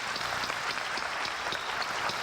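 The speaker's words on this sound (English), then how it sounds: "Let's get a sister another round of applause." An audience applauds a woman in a lecture hall, a steady wash of clapping that is moderately loud and continuous throughout.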